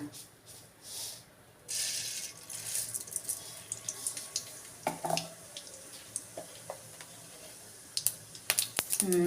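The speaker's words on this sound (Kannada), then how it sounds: "ಸಾಸಿವೆ ಸ್ವಲ್ಪ ಸೌಂಡ್ ಬರ್ತಾ ಇದೆ" Mustard seeds spluttering in hot oil in a pan while a spinach stir-fry is being made, with irregular sharp pops and crackles, close and fairly quiet, over a soft hiss.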